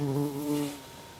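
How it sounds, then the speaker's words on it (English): A big bumblebee buzzing close by on a sunny day outdoors at a wood turning workspace: a loud, steady droning hum that fades away within about a second. "You probably hear him buzzing too."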